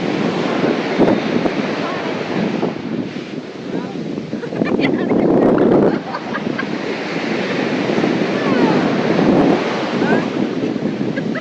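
Ocean waves at Uppada beach near Kakinada, a steady broad wash of surf with rising swells and gusting wind across the microphone, loud and continuous, a voice audible beneath the surge.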